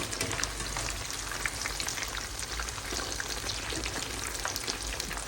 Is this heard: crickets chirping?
no